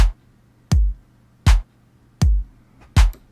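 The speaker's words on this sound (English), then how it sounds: "And then I decided to add some claps." Layered clap samples in a beat, sharp bright cracks over a low thump, hit four times at an even, moderate pace, loud and close with no talking.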